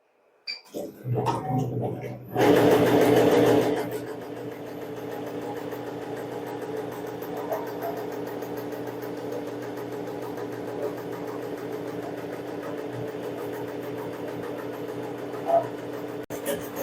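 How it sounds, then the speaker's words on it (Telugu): An embroidery machine stitches a flower design with a steady mechanical hum and faint rapid needle vibration, running continuously under a person talking. "సో ఇప్పుడు నేను ఈ ఫ్లవర్ స్టిచ్ చేస్తుంది చూపిస్తున్నాను చూడండి"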